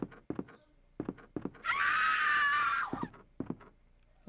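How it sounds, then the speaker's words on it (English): A woman's shrill, sustained scream from the Nintendo 64 survival-horror game Resident Evil 2, loud and lasting about a second, set between short bursts of someone talking before and after. "And there's the women's version of the Wilhelm scream."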